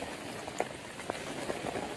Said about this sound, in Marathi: पाऊस पाऊस आला.